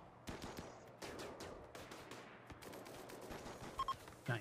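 Rapid bursts of gunfire from the colony-sim video game Rimworld, several volleys of sharp crackling shots spread across the clip with brief gaps, moderately loud and heard alone.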